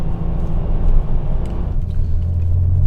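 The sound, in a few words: 1997 Porsche 993 Turbo engine while driving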